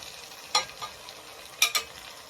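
Minced beef frying with onions and garlic in a pan, a faint steady sizzle broken by a few sharp scraping stirs, close by and quiet.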